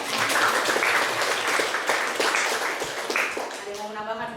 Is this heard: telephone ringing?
no